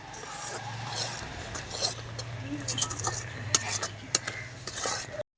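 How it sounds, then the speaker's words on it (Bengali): Sesame seeds stirred into thick, sticky jaggery syrup in a pan, giving repeated scraping and clinking of the spoon over a low, steady hum, with quiet background sounds and no clear speech. "এবার তিলটা দিয়ে দেবো দুই মিনিট নাড়াচাড়া করে নামিয়ে দেবো"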